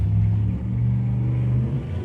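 A 1948 Ford Super Deluxe Coupe with a small-block engine, four-speed and side exhaust, idles with a deep, steady low rumble close by, pulsing slightly and easing off near the end, with no talk.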